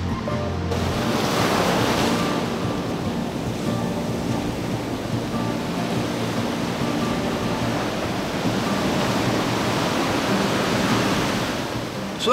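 Pacific Ocean surf on a California beach in January washes continuously onto the shore, a steady broadband roar with swelling waves and some wind buffeting, no voices.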